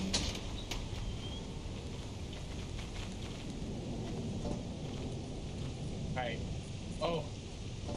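Thunderstorm ambience in the Lethal Company video game: steady rain hiss fills the scene with low rumbling thunder throughout and a couple of sharp crackling bursts near the end, under faint background voices.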